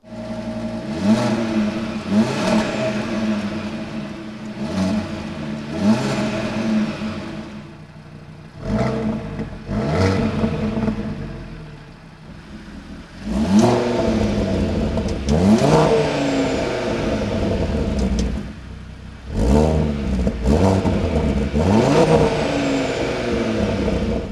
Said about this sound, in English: the performance exhaust is different on the inside a little bit, and therefore creates a better sound